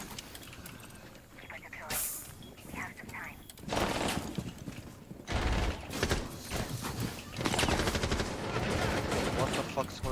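Rapid automatic gunfire from Rainbow Six Siege, broken into several bursts and sustained volleys, loud and close, with footsteps and scuffling between the shots and faint voices underneath.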